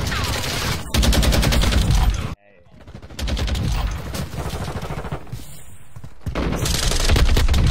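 Rapid automatic fire from a Lachmann 762 rifle in Call of Duty MW2, loud sustained bursts with a brief pause partway, dense and close, under occasional speech.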